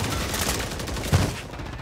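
Video game gunfire in a firefight, a dense rattling stream of shots heard at a distance, continuous and rough throughout, with one slightly stronger thump partway through and no speech.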